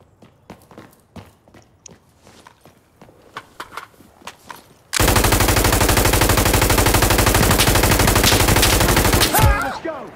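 Sustained machine gun fire in the Insurgency Sandstorm co-op shooter, an M249 ripping a loud, continuous rapid burst for several seconds after scattered footsteps and quieter gear sounds, ending with a brief tail.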